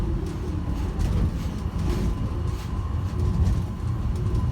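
A subway train heading toward Terminal A rumbles as it pulls away, a steady low rolling drone with faint squeals and clatter, heard from inside the car while another train arrives.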